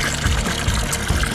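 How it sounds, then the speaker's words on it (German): Water pours steadily from a traditional mountain-fed fountain in Sicily, a close, continuous splashing trickle that runs without pause through the short stretch. "Wasser gibt's hier aus dem Brunnen"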